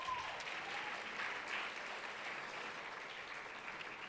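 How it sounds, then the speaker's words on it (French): An audience applauds after a speaker is introduced at a regional finals event, a steady dense clapping that holds evenly throughout. "Donnez-lui une main d'applaudissement."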